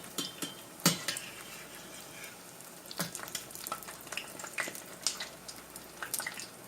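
Puerto Rican codless fritters (bacalaitos without bacalao) frying in medium-hot oil, a steady close sizzle with scattered crackles and a few sharper pops and utensil clicks, no talking.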